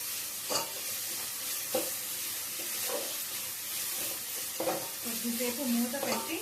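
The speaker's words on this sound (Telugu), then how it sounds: "బాగా కలుపుకోవాలండి." A spoon stirs kichdi with salt and turmeric in a hot pan, soft scraping strokes repeating every second or so over a continuous gentle sizzle of frying.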